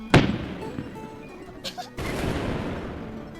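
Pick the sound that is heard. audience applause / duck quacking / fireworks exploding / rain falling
fireworks exploding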